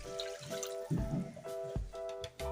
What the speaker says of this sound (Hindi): अब हम इसमें 2 गिलास पानी ऐड कर देंगे।